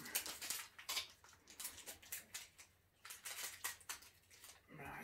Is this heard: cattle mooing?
no